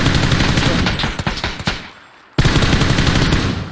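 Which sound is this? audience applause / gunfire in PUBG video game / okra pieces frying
gunfire in PUBG video game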